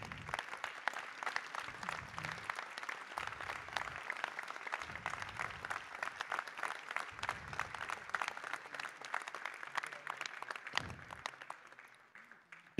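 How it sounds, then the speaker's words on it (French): Loud, sustained applause from a congress audience after internal election results are announced, dense clapping filling the whole stretch with a few low thumps and fading slightly at the end. "Donc on peut les applaudir extrêmement fort."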